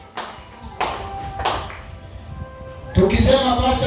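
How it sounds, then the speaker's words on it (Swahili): A church congregation claps for Jesus during a Swahili worship service, with a few sharp separate claps followed by a burst of louder, denser applause at the end. "Pigia Bwana Yesu makofi."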